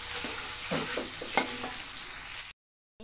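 Chopped bawang (shallot or garlic) frying in hot oil for Sundanese ciwang gives a steady close sizzle with a few stirring scrapes, then cuts to brief silence near the end.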